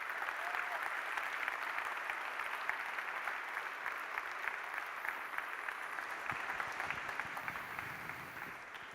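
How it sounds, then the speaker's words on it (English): Warm audience applause at the performance.now() 2023 conference, a dense, sustained clapping from a large crowd that holds steady and slowly eases off toward the end. "please a warm applause for Tim for being a good sport"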